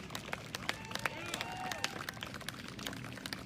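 An audience at an outdoor political rally in Austin, Texas claps in a quiet, scattered patter of individual hand claps, fairly faint, with some background voices and a brief tonal sound mixed in.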